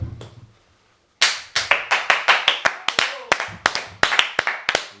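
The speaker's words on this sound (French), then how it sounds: "Ça mérite un applaudissement." A small group claps in quick, sharp, uneven bursts after a short stretch of quiet, close and fairly loud, right after a joke about Guy Spears.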